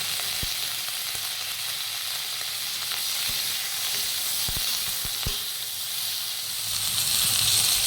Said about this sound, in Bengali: মাছগুলি ভাজা হয়ে গেলে সব সবজিগুলিকে একটু তেলের সাথে ভেজে দেব